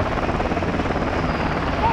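A helicopter in the video game Modern Warfare 2 gives off a steady, close rotor and engine drone for a couple of seconds, with no talk over it.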